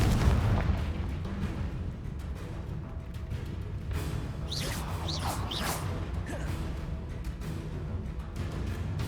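Confringo fire spell blasts in Hogwarts Legacy, a series of whooshing, booming explosions with fiery bursts clustered mid-clip over a dense rumbling battle ambience.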